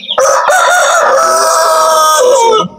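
Asil chickens and young chicks call loudly and close up, a sustained, strained crowing or squawking cry lasting over two seconds.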